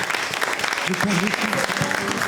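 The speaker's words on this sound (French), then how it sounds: "Est-ce qu'on peut l'applaudir, s'il vous plaît?" An audience at a French televised singing show breaks into applause, dense clapping heard alongside a person talking.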